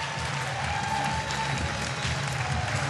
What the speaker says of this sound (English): Get a big cheer from their fans